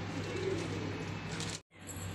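A pigeon coos softly over a steady background hum, a low, brief call that fades out abruptly near the end.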